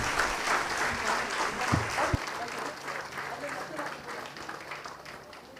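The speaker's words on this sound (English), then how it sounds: "Can we appreciate them with a huge round of applause?" Students are applauded after a performance at the SAMSKAR-2025 concluding function, the crowd's steady clapping filling the room before gradually thinning out, with a couple of brief thumps early on.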